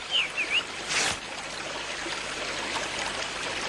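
Steady rushing water of a village river flowing around a swimmer, a continuous broadband wash with a brief splash-like surge near the start, heard alone without talk.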